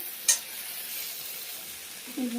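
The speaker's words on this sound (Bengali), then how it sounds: "এবার এটা কিছুক্ষণ এভাবে নাড়াচাড়া করে নেবো, একটু ভাজা ভাজা হতে দেবো।" A spice mixture for milk shukto fries in oil while being stirred in a pan. It gives a steady, even sizzle, with a sharp clink near the start and a short scrape at the end.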